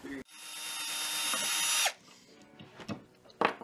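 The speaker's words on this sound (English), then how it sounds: "So I'm going to get on drilling these now and quit talking finally." A power drill bores a tuner hole through a cigar box guitar, a steady whine rising for nearly two seconds before cutting off, followed by a few soft clicks and knocks.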